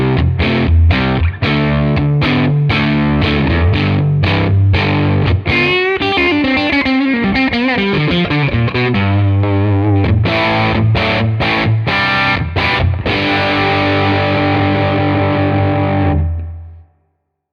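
Electric guitar played through a Tonex Brit Aged 45 amp tone model gives distorted, sustained chords and riffs with brief picked passages, loud and continuous before ringing out at the end.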